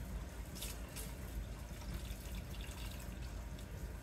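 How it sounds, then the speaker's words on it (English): Tin solution of hydrochloric acid and water poured into a beaker holding circuit boards, a steady soft liquid trickle and splash continuing throughout at low level with no voices. "We're going to add some tin solution,"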